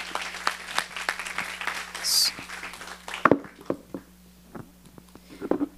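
Scattered clapping from a small group, uneven and thinning out partway through, with a brief high whistle-like tone early on.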